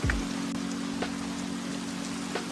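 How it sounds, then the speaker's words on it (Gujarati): Heavy rain pours down as a dense, steady hiss with a few sharper drips, a constant wash of noise from nearby surfaces beneath a low background hum. "ધોધમાર વરસાદ આવે છે, ધોધમાર"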